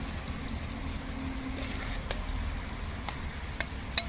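Pointed gourd frying in ghee and being stirred: a steady low sizzle throughout, with a few light metallic spatula clinks against the pan near the end, no talking.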